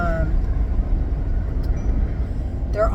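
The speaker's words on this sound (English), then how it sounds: "Because I'm on the street now." Street traffic rumbles low and continuous, with passing vehicles and a brief higher whine near the end, while a person speaks over it.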